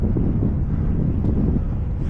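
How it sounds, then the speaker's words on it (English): Cold headwind buffets the microphone on a ride home, a steady, loud low roar of wind noise that carries unbroken throughout with no other sounds standing out. "Oh, the wind is right in our face."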